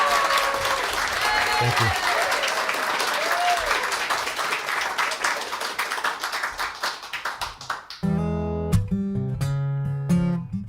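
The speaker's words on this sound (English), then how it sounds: "Let's have one more round of applause before he plays it for Mr. Casey Craine" Audience applauding at a live folk music performance, a dense sustained wash of clapping for about eight seconds before it breaks off and instrumental music begins, with a brief spoken thanks.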